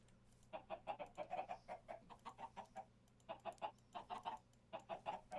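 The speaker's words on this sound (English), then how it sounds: "I should spawn in some chickens." Chickens spawned in Minecraft cluck in quick repeated bursts, a steady string of near, clear bird calls with short pauses between groups and no talking.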